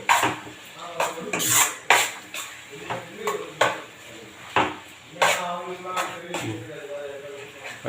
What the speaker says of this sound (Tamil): மாஸ்டர் குக்கிங் மாஸ்டர் வந்து நல்லா கலக்கிறாரு